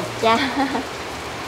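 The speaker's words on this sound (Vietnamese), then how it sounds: "Trời mưa." Steady rain falls at an outdoor bonsai market in Can Tho, a soft, even hiss that continues throughout while a person briefly speaks over it.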